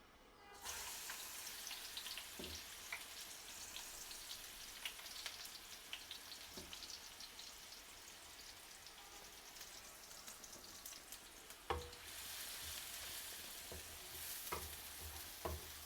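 Onions frying in a small wok, a continuous hissing sizzle heard close, with occasional stirring scrapes and light knocks of a spoon against the pan.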